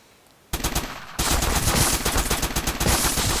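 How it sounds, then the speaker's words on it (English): Assault rifle in the top-down shooter Crimsonland firing loud continuous automatic bursts that start abruptly, dense rapid shots close up with no talk. "I believe you just have the assault rifle."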